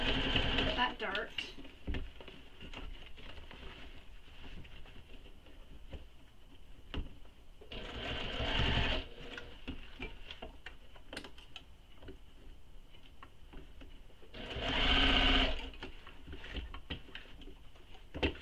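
A home sewing machine stitching a fabric bag, bursts of rapid whirring at a few points between quieter stretches of fabric handling, close by, with someone talking throughout.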